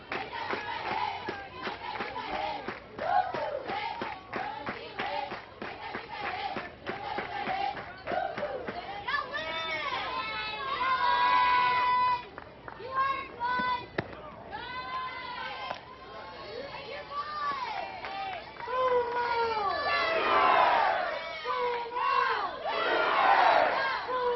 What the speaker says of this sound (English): Terrific crowd on hand here tonight.